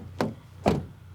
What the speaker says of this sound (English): And rear door closing sound